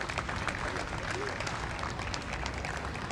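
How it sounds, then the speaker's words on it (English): A crowd claps together at a DogFest charity event in Jacksonville, a steady, dense round of applause holding level for a few seconds with no pauses. "Let's give them a round of applause."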